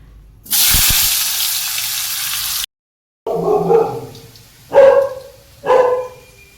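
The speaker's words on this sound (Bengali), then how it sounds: "তার আগে আলুগুলো ভেজে নিই" Potatoes dropped into hot oil sizzle loudly for about two seconds. After a short silence, a dog barks three times nearby.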